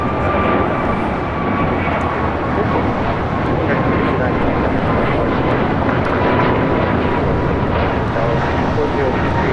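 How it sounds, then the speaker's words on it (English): An American Airlines Airbus A321neo taking off at LAX gives a loud, continuous broad jet roar that holds steady throughout, with faint talk underneath. "This is American Airlines Flight 59 taking off to Kailua Kona on an A321neo"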